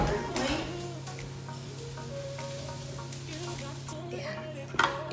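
Cooked rice tipped into a hot pan sizzles and fries with a steady low crackle, with light stirring and utensil clicks on top and a brief louder clatter near the end. The sound is fairly quiet.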